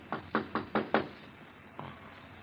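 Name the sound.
knock at the door, radio drama sound effect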